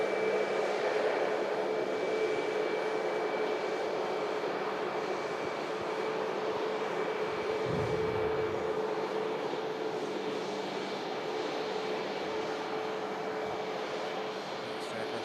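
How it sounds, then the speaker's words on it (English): An EasyJet passenger jet at Manchester Airport gives a steady, loud engine roar that holds evenly throughout, with a faint low rumble near the middle. "we have an EasyJet, another aircraft heading down to Funchal"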